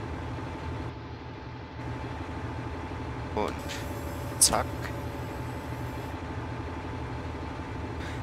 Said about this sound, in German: Dann starten wir mal den Motor.